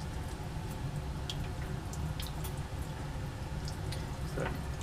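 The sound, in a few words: cold tap water running over hot lab glassware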